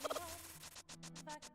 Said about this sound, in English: So many cuckoos.